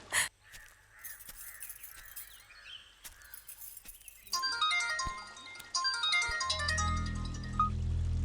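An incoming-call ringtone on a phone chimes as a rising series of bright electronic tones that grow louder midway, with a low hum entering near the end and no talk.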